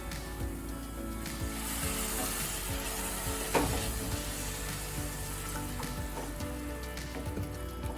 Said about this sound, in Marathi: आता आपल्याला यामध्ये पाणी ओतायचे